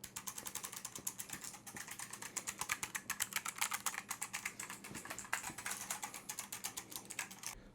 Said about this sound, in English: it tends to get picked up more like the sound of this keyboard.